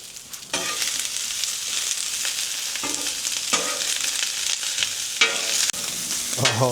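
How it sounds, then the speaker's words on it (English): Rice and vegetables frying on a hot hibachi griddle, a loud continuous sizzle broken by several sharp spatula scrapes and stirring bursts, close up with no voices. "Nothing is better than some crispy rice on the griddle."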